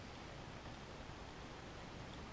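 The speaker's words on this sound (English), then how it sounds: "It's raining." Steady rain falling outside a boat under refit in Napa in July, a dense, even hiss at low level with no talk.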